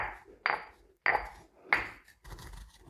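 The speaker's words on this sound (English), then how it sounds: "we're just going to kind of crush them up a little bit, just to break them apart" Fennel seeds crushed lightly to break them apart: three sharp, close knocks about half a second apart, followed by a rougher grinding scrape.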